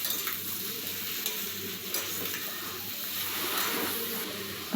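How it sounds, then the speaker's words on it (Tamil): Onions and tomatoes sauté with salt in a pan, giving a steady close sizzle with occasional stirring scrapes and no voices. "வெங்காயம், தக்காளி போட்டு நல்லா உப்பு போட்டு வதக்க போகிறோம்."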